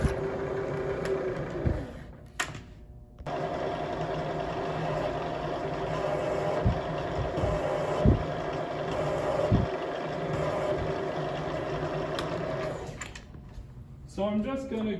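A milling machine cuts a countersink into a hammer head, a steady whirring hum with intermittent scraping and clicking cuts, while someone talks throughout.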